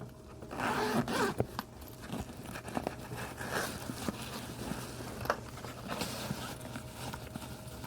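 Clothing zippers rattle and scrape as sewing supplies are sorted, with quiet, irregular clicks and rustles close by and no talk.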